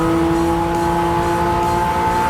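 A Suzuki Jimny being driven, its engine giving a steady, loud droning hum with a constant whine and rumbling road noise, heard close and alone.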